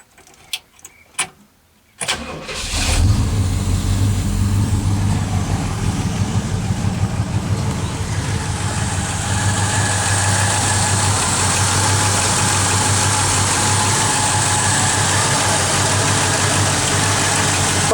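A 1966 Pontiac Catalina with a 389 V8, sitting unused for six years, cranks with a few clicks, then catches on a cold start and settles into a loud, steady rumbling idle with a slight uneven misfire.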